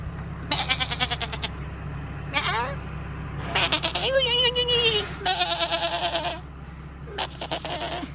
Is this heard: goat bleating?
yes